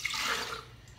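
Plain water pouring into a blender for a strawberry and lemon juice, a soft, close splashing gush that fades within a second.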